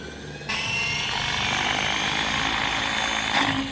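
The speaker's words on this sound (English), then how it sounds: "All right, Keith, show us how cool your helicopter is." Radio-controlled model helicopter flying nearby at an RC event, a loud, steady high-pitched rotor and motor whine that kicks in abruptly after a brief lull and holds constant with slight swells.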